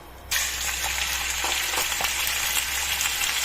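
Chicken drops into hot oil and a loud sizzle bursts up at once, then holds as a steady, close frying hiss with faint crackles.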